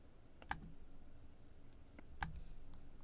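A couple of sharp computer mouse clicks, one near the start and another after a pause, made while selecting tables in database software with the Control key held down, quiet and close against a faint room hum.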